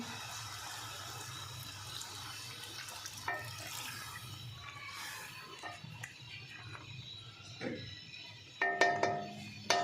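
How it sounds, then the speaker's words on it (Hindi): A glass of water is poured into a pan of sautéed kachnar buds for keema, a steady splashing stream followed by a few clinks of cookware near the end, with no talking. "अब इसमें 1 गिलास पानी शामिल कर देंगे"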